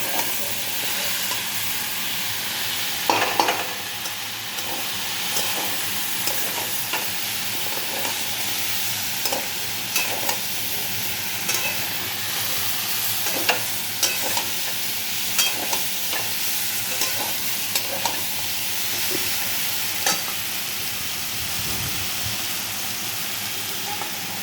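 Young jackfruit curry is sautéed with spices in a pan, giving a steady, close sizzle with scattered scraping and clinking from the stirring throughout, and no one talking.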